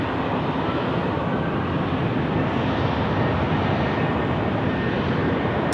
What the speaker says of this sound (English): A330 time departing now to Perth